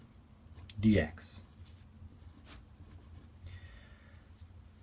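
A pen or marker writes out a math integral with short scratching strokes, partly under a man's brief speech.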